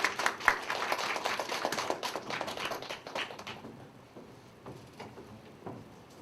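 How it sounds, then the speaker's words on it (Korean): Welcoming applause from a college group congregation at a Sunday church service, a room of hands clapping briskly before fading to a few sparse claps and quiet. "환영의 박수로 맞이하겠습니다."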